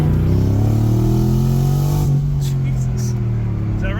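A flood-damaged Corvette ZR1, newly repaired and smoking from the exhaust, drones loudly through a steady high-RPM pull on a short test drive, its engine note sustained and dominant throughout with faint talk underneath.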